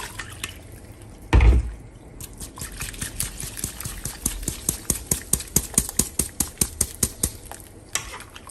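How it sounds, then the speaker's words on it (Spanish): Two cups of water are poured into a blender glass and strainer to rinse them: a brief loud splash, then a run of steady, rhythmic light clinks and drips close by. "Para enjuagar mi vaso y la coladera voy a agregar 2 tazas de agua."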